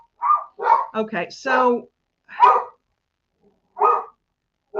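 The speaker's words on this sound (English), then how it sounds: "somebody walked by our house, and so the dogs are letting me know" Several dogs bark at someone passing by a house, a few sharp barks in quick succession followed by scattered single barks, fairly close, with a voice briefly speaking near the start.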